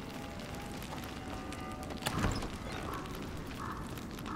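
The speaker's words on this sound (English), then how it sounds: "Oh, the horse." Horse hooves clip-clop in the medieval video game A Plague Tale: Innocence, quiet scattered steps over a low ambient bed, with a brief louder thud and rustle midway.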